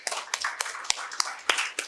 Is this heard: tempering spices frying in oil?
no